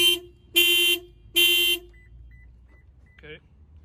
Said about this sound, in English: that will trigger my alarm